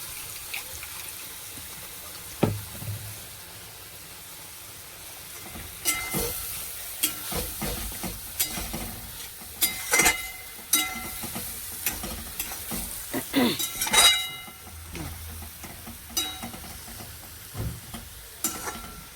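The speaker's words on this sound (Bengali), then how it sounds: "একটু সামান্য জল দেবো, একটু দিয়ে জলটা দিয়ে দেবো।" A little water poured into a hot frying pan while cooking, giving sharp hissing bursts and splashes among stirring clatter, with quieter sizzling stretches between the louder spurts.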